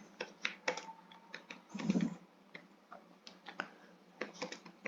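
Typing on a computer keyboard while writing C++ code, an irregular run of close, crisp key clicks with brief pauses and one denser cluster of strokes midway, with no talk.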